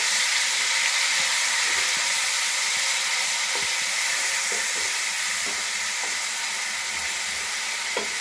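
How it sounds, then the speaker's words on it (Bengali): Half-ground onion paste sizzles and fries steadily in a little oil in a pan, a continuous bright hiss broken by soft scrapes and knocks of stirring, for a Bengali egg and potato curry. "পেঁয়াজটা দিয়ে নিয়ে নাড়িয়ে নেব।"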